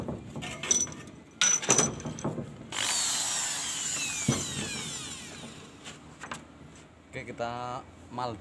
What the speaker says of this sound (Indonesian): sana itu kita bor ya